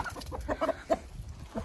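Several hens clucking in short, uneven bursts close by, with soft farmyard background noise underneath and no voices.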